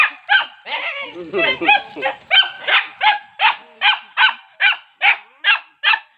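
A dog yaps excitedly, close and loud, in a rapid, regular series of short high barks after some whining at first.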